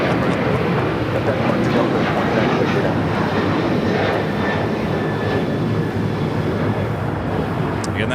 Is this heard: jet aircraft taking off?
yes